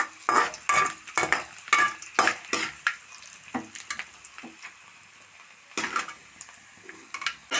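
Grated coconut frying and stirred in a pan, quick spoon scrapes and clinks over a low sizzle, busy at first, then sparse strokes before a final burst, close and without voices.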